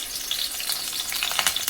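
Tomato and curry leaves go into hot oil for a fish curry tempering, giving a close, continuous crackling sizzle with sharp popping bursts and no talk.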